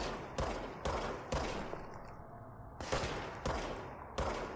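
Gunfire from an enemy in a shooter video game: seven sharp, loud shots in irregular bursts, each crack followed by a decaying ring with no talk over it.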